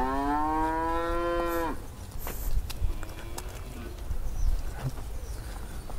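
A cow in a grassy field lets out one long, loud moo, followed by outdoor rustling, faint bird calls and scattered thumps.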